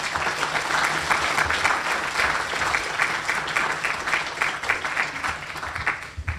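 An audience at a Manatee Bar Association talk breaks into sustained applause, dense clapping that fills the room steadily before tapering off at the end.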